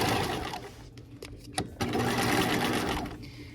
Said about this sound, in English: I have a lead foot when I'm sewing.